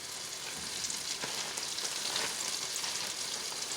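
Floured pork chops browning in a pan, a loud steady sizzle and crackle of frying fat with a few sharper pops, close and continuous, no voices.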